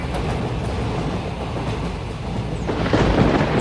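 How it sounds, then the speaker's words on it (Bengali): Thunderstorm with rain used as a sound effect in a ghost story, a dense, continuous rumbling roar with a rushing wash of rain that swells slightly toward the end, with no voice. "ঝড় বৃষ্টির দাপট যেন আরো বেড়ে উঠল"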